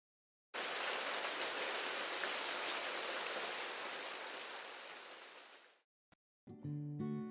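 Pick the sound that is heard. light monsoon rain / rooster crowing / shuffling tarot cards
light monsoon rain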